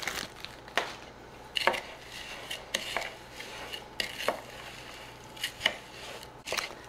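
Ritz cracker crumbs are being mixed into a cabbage casserole, a utensil scraping and tapping the dish in soft, irregular strokes, quiet and close with no talking.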